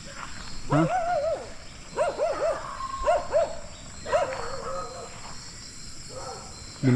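A dog barks repeatedly at night beside rice paddies, a run of sharp yelps in bursts over a steady chorus of crickets and insects, fairly close and moderately loud.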